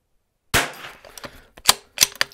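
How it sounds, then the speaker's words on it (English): Rifle shots at an outdoor shooting range, fired from standing position, land as a few sharp, loud cracks after a short silence, separated by uneven gaps and quieter clatter. "Taking too long to shoot my standing shots."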